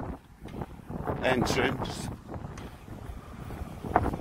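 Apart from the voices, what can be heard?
wind blowing against the microphone outdoors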